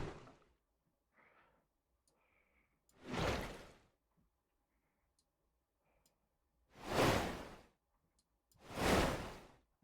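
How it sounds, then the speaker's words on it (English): Three synthetic water whooshes built in a software sampler, each a broad rising and falling swell lasting about a second, separated by quiet gaps with a few faint clicks and blips in between. "And now we have a water whoosh."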